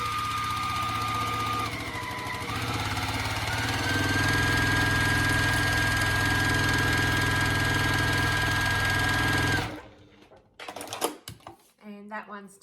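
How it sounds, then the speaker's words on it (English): A domestic sewing machine stitches through a quilt block in a long continuous run that speeds up partway. It stops abruptly, and then faint handling noises and a voice follow. "we are going to pop that on and stitch through"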